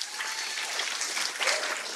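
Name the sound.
church audience applauding with hand claps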